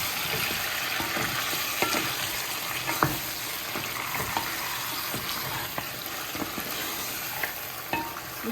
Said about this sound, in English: Give it a quick stir and see.